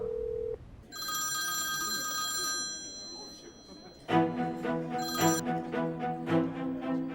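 A telephone rings in a domestic drama scene, with a steady electronic ringtone of bright repeating chimes, then a louder, busier ringing pattern, fairly close, faint voices underneath.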